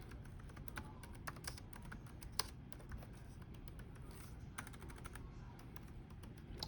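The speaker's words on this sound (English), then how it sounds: "It's hard typing with one hand, you guys." Quiet, irregular keyboard typing, soft clicks in uneven bursts against a low background hum, with no voices.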